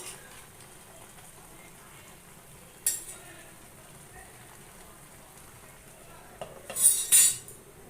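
Lid lifting and a utensil scraping through pumpkin vine greens cooking in a pot: a sharp clatter near three seconds, then a louder cluster of metallic clinks and stirring near the end over a faint, steady background hiss.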